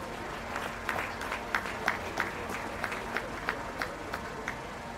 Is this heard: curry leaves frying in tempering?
no